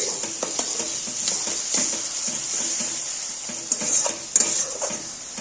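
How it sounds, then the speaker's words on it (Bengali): Peas and small potato curry gets a gentle stir after salting, a spoon scraping and tapping the pan in a loose rhythm over a low, steady sizzle, close and moderately quiet. "নুন দিয়ে এবার হালকা করে একটু নেড়ে দিচ্ছি"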